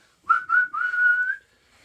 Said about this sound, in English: the referee looks at his watch, blows his whistle